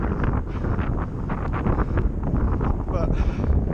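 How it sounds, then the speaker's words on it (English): Strong wind buffets the microphone of a cyclist riding up Box Hill on a Cervelo R2 road bike, a continuous, roaring rumble, loud and gusty throughout with no clear pauses. "it's very windy"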